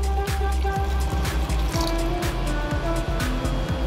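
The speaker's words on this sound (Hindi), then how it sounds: "इसके अंदर अभी डालना है थोड़ा सा गर्म पानी।" Warm water poured into a spiced curry masala of Kashmiri red chili powder and turmeric for a prawn and potato curry, a steady close liquid splash and trickle with faint kitchen knocks throughout.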